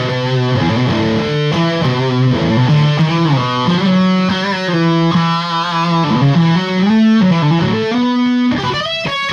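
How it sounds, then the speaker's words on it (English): Electric guitar played through a BOSS DS-1 distortion pedal with the distortion cranked fully up and the tone turned down, a loud, sustained run of melodic single notes. "you just crank that distortion all the way up and crank the tone down"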